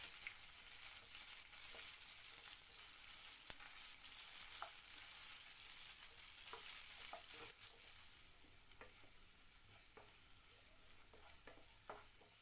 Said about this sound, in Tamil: அதோட ஒரு கொத்து கருவேப்பிலை சேர்த்து 3லேருந்து 4 நிமிஷத்துக்கு வதக்கி விட்டுருங்க.